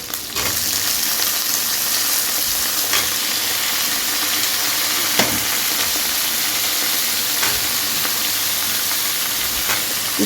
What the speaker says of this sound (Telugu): వేసేస్తాను ఇప్పుడు దుంపలు కూడా